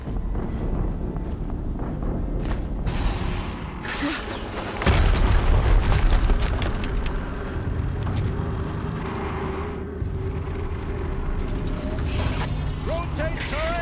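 In the video game Horizon Zero Dawn, an explosion lands as a loud booming burst amid mechanical clanking and rushing wind-like noise, with a strong low rumble midway through a busy, dense mix.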